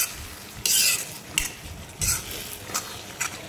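Aubergine masala with garam masala is stirred in a pan, several quick scraping strokes of a spoon over a low sizzle, close and fairly loud, with no voices.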